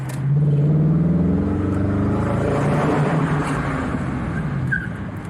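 A 2017 Dodge Challenger with a 5.7 HEMI V8 revs hard inside a tunnel, a loud, close engine roar that swells, holds steady and eases slightly near the end, with no talking.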